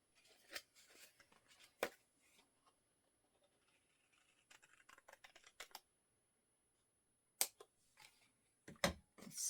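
Scissors snipping paper while adding pockets and pages to a soft cover journal, several short crisp cuts spaced apart in a quiet room, close and fairly faint, no talking.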